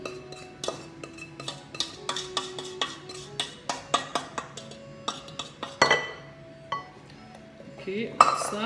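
A spoon stirs cocoa brownie mixture in a bowl, making a quick run of repeated, bright metallic clinks and scrapes against the bowl, close and fairly quiet.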